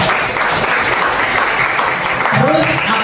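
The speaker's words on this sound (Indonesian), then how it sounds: "coba kasih tepuk tangan yang meriah dulu dong." Lively applause from a university class audience, steady and dense throughout with a few voices mixed in.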